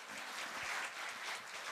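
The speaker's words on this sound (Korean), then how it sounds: "다시 한번 감사의 박수 부탁드리겠습니다." An audience at a Korea University graduate school evening gathering claps in dense, steady applause that fills the room for a couple of seconds.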